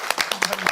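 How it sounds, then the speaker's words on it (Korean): A seated audience at a Bible study class gives a short round of applause, with quick, evenly spaced claps in a brief, close burst. "박수 한번 하시죠."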